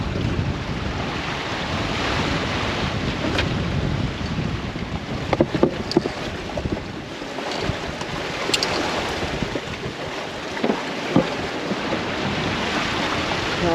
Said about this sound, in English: The waves are, I don't know how big they look to you